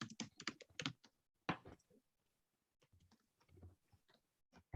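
Quiet typing on a computer keyboard during a webinar, heard as irregular bursts of soft key clicks separated by short pauses, close and faint.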